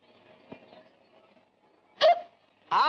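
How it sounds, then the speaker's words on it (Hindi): A person hiccups twice, each a sharp, brief gulping catch following faint, low background talk, close and fairly loud against a quiet room. "हिचकी आ गई यार।"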